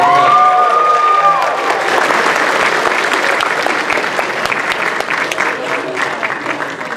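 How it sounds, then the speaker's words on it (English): An audience at a Comic Con Revolution 2018 panel on Batman: The Animated Series bursts into loud, close applause with some cheering, clapping steadily and slowly fading over several seconds, with a voice briefly audible at the start. "And Pershing, everybody give a round of applause."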